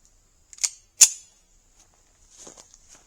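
Two sharp gunshots ring out about a third of a second apart, fired at a tree from about four yards away outdoors, followed by faint shuffling.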